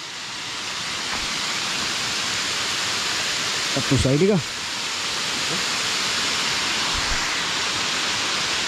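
Waterfall in the Makandawa rain forest, a continuous broad rushing roar of falling water filling the scene steadily throughout, with a brief spoken remark partway through.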